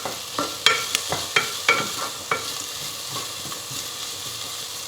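Onions sautéing in a pan for vegetable pulao, a soft continuous sizzle punctuated by a run of distinct spoon taps and stirring knocks against the pan.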